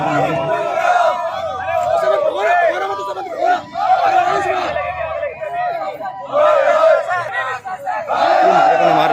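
A crowd of mock rioters at a police riot drill on the RTC police line in Agra shouts and roars loudly and continuously, a dense mass of yelling voices close at hand.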